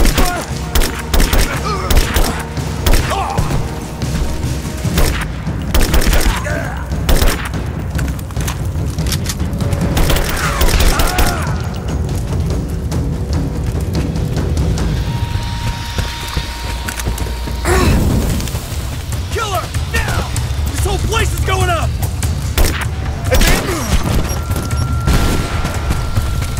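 Rapid gunfire and heavy booming explosions erupt from a Rise of the Tomb Raider firefight, dense and loud throughout with thuds and mechanical clanks layered in, and voices shouting now and then.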